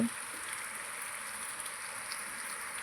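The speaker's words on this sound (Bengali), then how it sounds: "বৃষ্টিটা এখন একটু কমে গেছে" Soft, steady patter of light, easing rain falling on surfaces at a farmstead, a continuous faint hiss with no voices.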